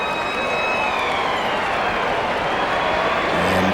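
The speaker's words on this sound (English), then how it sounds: "Halftime siren should be with us now." A rugby league halftime siren sounds at EnergyAustralia Stadium during Newcastle Knights versus Cronulla Sharks, a thin steady tone carrying over a loud, continuous crowd roar.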